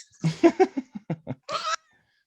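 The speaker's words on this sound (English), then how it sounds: "we got a yelling cat now" A pet cat yowls indoors in a rapid run of loud, close, bleating cries, ending in one longer drawn-out wail, with no talk over it.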